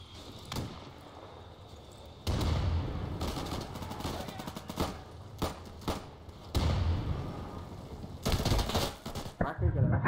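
Gunfire rattles in Insurgency, with several rapid bursts of sharp shots breaking out in clusters amid quieter gaps, while players talk.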